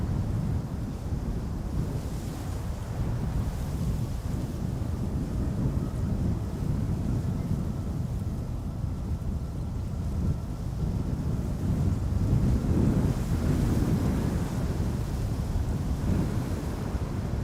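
Strong wind roars steadily at Amsterdam Schiphol airport near the Polderbaan runway, a dense low rumble of buffeting gusts on the microphone that swells slightly toward the end, with no voices.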